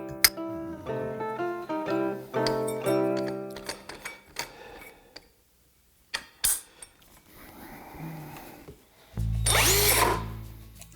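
A Harbor Freight Bauer drill struggling to bore a 3-inch hole, with stop-start bursts of motor whine and knocks, then a loud sustained grinding surge near the end.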